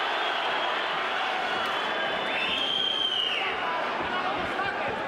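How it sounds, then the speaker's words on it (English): A boxing arena crowd at a title fight hums with a dense, steady roar of cheering and chatter, swelling briefly midway, with a commentator talking over it. "And when Medina comes in and does anything, the crowd's really a buzz."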